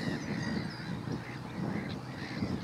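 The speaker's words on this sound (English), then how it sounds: "Couple of swans making their way down there." Swans call on the water at a marina with a run of repeated honking notes over a steady outdoor background, heard at a moderate distance and with no talking.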